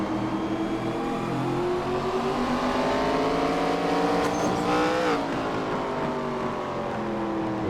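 Stock cars racing on an oval in iRacing at night, engines droning loudly and steadily with shifting pitch as cars run close together, with a brief rise and drop as one passes near.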